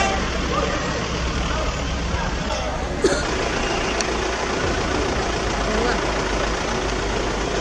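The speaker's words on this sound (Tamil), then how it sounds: "அதிகளவில் கார், வேன்கள் கொடைக்கானலில் வருவதால் கடும் போக்குவரத்து நெரிசல் ஏற்படுகிறது" Heavy traffic of cars and vans jammed in Kodaikanal during the summer tourist season, a steady dense rumble of idling engines with a brief horn toot partway through.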